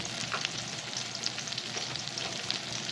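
Shrimp tempura frying in hot oil: a dense, steady crackling sizzle that fills the whole moment close up, with no voices.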